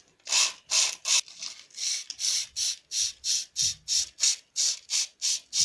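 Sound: sanding motor rotor with sandpaper

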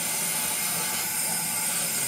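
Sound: steamer hissing while steaming a flat brim hat

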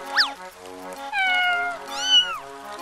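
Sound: cat meowing in a cartoon

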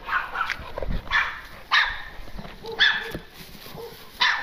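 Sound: dogs barking

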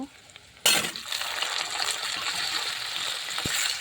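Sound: cauliflower and potatoes frying in the pan

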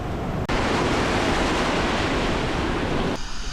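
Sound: ocean waves below cliffs at Nusa Penida, Bali

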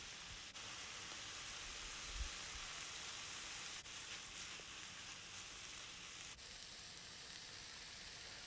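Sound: tuna escabeche cooking in a pan with oregano

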